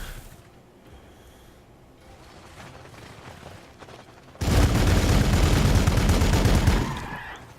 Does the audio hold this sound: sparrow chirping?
no